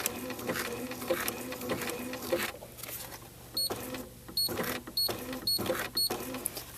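A sewing machine stitching appliqué fabric runs in short rhythmic bursts, its needle chattering steadily, then stopping and restarting several times as it pivots around an inside corner, close and clear with no talk.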